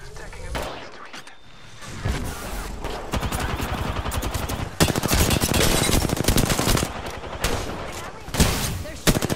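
Sustained automatic gunfire crackles in rapid bursts through a firefight in the shooting game Apex Legends, loud and close with brief pauses between volleys, while a player's voice talks over the shots.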